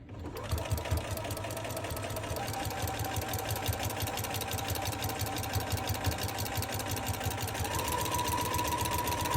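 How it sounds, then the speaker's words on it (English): Sewing machine stitching fabric with a steady, rapid mechanical whir and rhythmic needle chatter that runs continuously at close range, unbroken by talk. "And I know I'm sewing totally backwards."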